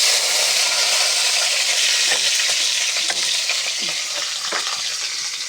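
Crab frying in a pan gives off a loud, continuous sizzle and hiss close by, with scattered scraping stirs and clinks over the top.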